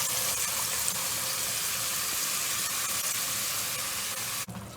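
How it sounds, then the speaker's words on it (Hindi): Masala sizzling and frying in a pan while being roasted for nihari, a steady close hiss with light crackle throughout, cutting off near the end. "अब हम इसमें ये मसाला अपना डाल के भून लेंगे।"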